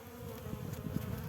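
Honey bees buzz inside a populated hive in early-season inspection, a close, continuous droning hum with small fluctuations as the colony clusters.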